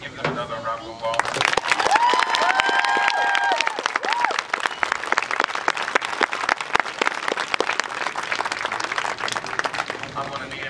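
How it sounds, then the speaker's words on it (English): Applause and cheering from a high school football stadium crowd for the Apalachee High School Marching Cats band, a dense, steady wash of clapping and shouts that starts abruptly and holds loud throughout, with a few whistles rising above it. "Can we give them another round of applause?"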